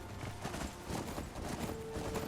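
Horse hooves clip-clop at a steady walking rhythm in the Skyrim video game, close and fairly quiet, with a faint game ambience running underneath.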